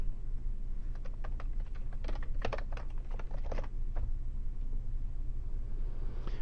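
Keys clatter on a computer keyboard while an event title is typed in, a quick irregular run of close, fairly soft clicks that bunch into short bursts and then trail off.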